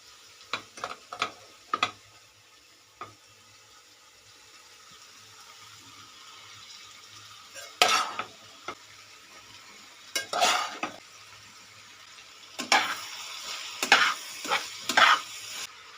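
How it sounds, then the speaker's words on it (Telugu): Pre-boiled cabbage drops into a pan of hot spiced oil and is stirred: a quiet background sizzle punctuated by clusters of scraping, clattering spoon strokes against the pan, close up, with pauses between bursts and no speech. "ఇప్పుడు ముందుగానే ఉడకపెట్టుకున్న క్యాబేజీని కలిపి ఇప్పుడు దాంట్లో వేస్తున్నాను."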